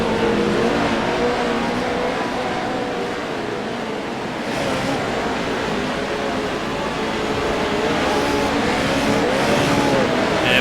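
Pro trucks racing on the Bark River off-road course, a steady roar of engines that stays loud for the whole stretch, with some surging and revving but no clear break.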